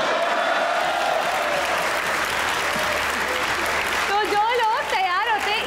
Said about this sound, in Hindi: तालियां बज रही थी मेरे लिए